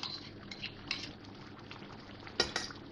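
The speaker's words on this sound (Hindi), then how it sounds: "अब ये बाकी मसाला भी डाल दूंगी इसमें।" Remaining spices go into a pan of green chicken masala, with soft spoon clinks against the metal, light stirring and a faint sizzle, quiet and close, without talk.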